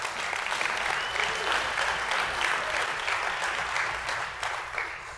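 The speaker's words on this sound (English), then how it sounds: "Give the Lord a hand clap of praise." A church congregation gives a sustained hand clap of praise, a dense, fairly distant wash of many hands clapping steadily throughout.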